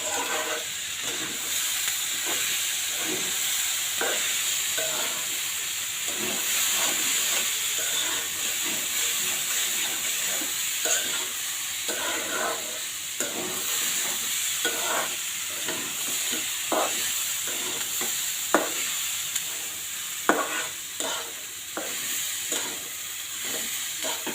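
Spiced food frying and being stirred in a pan, a steady sizzle and hiss broken by repeated scraping stir strokes at an uneven rhythm, close and moderately loud.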